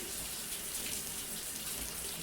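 Shower water running in the video game Death Stranding, a soft continuous hiss of spray falling, faint and even throughout a short stretch with no talk.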